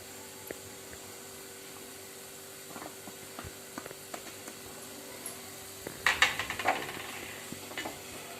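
Mashed boiled potato stirred and sautéed in a pan for a spicy fasting-style vada rassa, with soft scraping and faint frying texture, a few clearer spoon scrapes and clinks near the middle, fairly quiet throughout.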